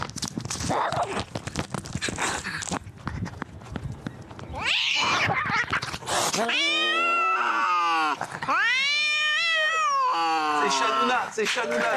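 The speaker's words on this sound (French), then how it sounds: "Les vidéos d'un chat qui sème la terreur dans son quartier." Cats yowl and caterwaul in long, wavering, drawn-out cries, loud and close, following a stretch of scuffling noise from a cat fight.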